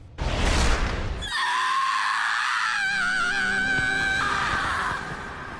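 Armin, an anime character in Attack on Titan, screams in a long, sustained, wavering high cry that follows a burst of loud rumbling noise and holds steadily for several seconds before easing off.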